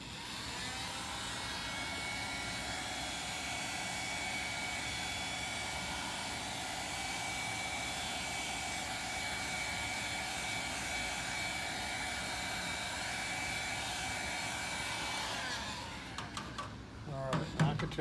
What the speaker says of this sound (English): Go rob your wife's hair dryer for a few minutes, she'll never know.